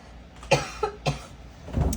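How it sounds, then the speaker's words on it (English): A few short, sharp coughs in quick succession, close and fairly loud, followed by a rougher throat-clearing rasp near the end. "I knew it was a matter of time before the cough came out."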